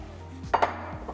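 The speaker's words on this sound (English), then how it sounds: "So I'm just adding my spaghetti to the boiling water." Dry spaghetti is dropped into a pot of boiling water on a kitchen stove, giving two quick close clatters over a low steady hum.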